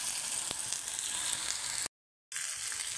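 Okra dropped into hot oil already crackling with cumin sizzles steadily and loudly, a continuous close frying hiss that breaks off into a brief silence before resuming.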